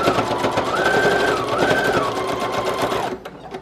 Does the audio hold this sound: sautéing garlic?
no